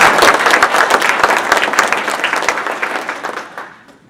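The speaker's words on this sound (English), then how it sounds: "I'm going to give them a quick round of applause" Sustained applause from an audience at a business meeting, dense clapping filling the room at full strength before tapering off over the final second.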